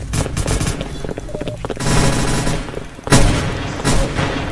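Dense, loud bursts of game weapon fire in the Roblox Randomizer game, centred on a t-shirt launcher, with heavy overlapping shots and booms that swell around the middle and again near the end, no talking.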